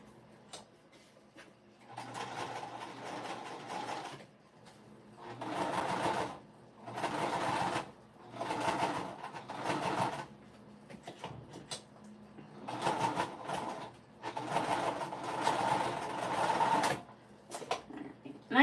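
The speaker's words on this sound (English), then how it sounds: "I just backstitched a couple times at the top to make sure I really caught that pocket" A sewing machine stitching a Dragon Hugo bag pocket, with backstitching at the top: repeated runs of close, steady mechanical whirring, each a second or two long, separated by short pauses.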